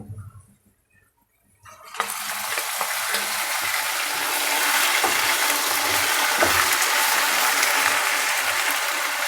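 Ginger and garlic tipped into onions frying in hot oil for masala kaleji; near-silence breaks at about two seconds into a loud, close, steady sizzle that holds to the end.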